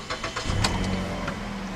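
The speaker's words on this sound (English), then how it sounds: "you do have to put the key in the ignition to start this vehicle" A 2010 Mazda 3 S Grand Touring with a 2.5-liter four-cylinder started with a key: a short cranking whir catches and settles into a steady idle, heard up close.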